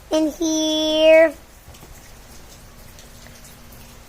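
Rain falls steadily outside during a monsoon, a continuous soft hiss, preceded at the start by a short bright tonal sound.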